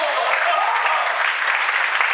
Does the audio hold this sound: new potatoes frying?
no